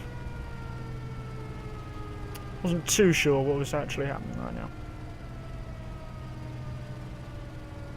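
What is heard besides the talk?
air raid siren in a video game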